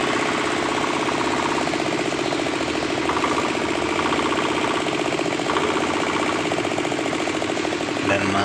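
A repaired diesel engine idling after its cylinder liners were replaced, a steady loud rhythmic chugging with a knocking texture that holds unbroken throughout, with no talk over it.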